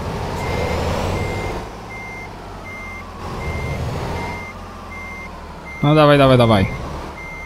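Reversing beeps from a truck in Euro Truck Simulator 2 repeat in a steady rhythm over a low engine rumble, with someone talking over them before a loud horn-like blast near the end.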